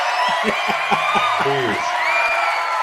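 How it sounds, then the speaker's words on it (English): An audience at a conservative talk show whoops and cheers loudly and close, with shouted voices and hollers over a lively crowd, while people talk among the noise. "let's give him some of the applause right quick"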